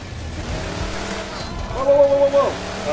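A car driven in the Xbox 360 game Crackdown, engine hum and rolling road noise under game effects, with a rising tone near the end and a player talking over it.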